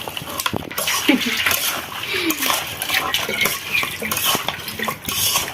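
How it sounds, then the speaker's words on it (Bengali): Child splashing and spilling water in a village kitchen, with clinking pots and dishes, watery sloshing and stirring sounds, close and busy, while someone talks over it. "সব জলগুলো নষ্ট করে ফেলে দিল"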